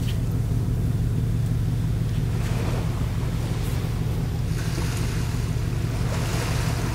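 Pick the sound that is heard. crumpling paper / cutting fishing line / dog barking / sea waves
sea waves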